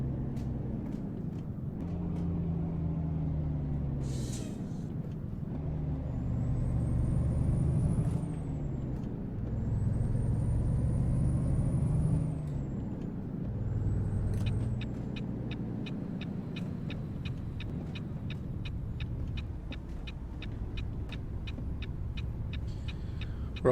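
Trucks in American Truck Simulator roll along the road with a steady engine drone that swells and dips, while high air-brake hisses and squeals sound in the middle and a rapid clicking comes near the end.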